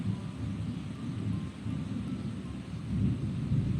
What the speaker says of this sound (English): Thunder and lightning on New Year's Eve.